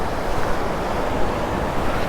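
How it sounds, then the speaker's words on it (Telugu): Ocean surf rolls in steadily along the shore near a boating point on the Rameswaram to Kanyakumari coast, a continuous broadband wash of breaking waves mixed with wind buffeting the microphone, with no clear individual crashes. "వేవ్స్ చూడండి ఎలా వస్తున్నాయో"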